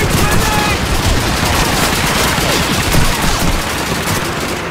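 Dense gunfire rattles nonstop in Call of Duty 2, overlapping rifle and machine-gun bursts forming a loud continuous fusillade, with voices faint beneath it.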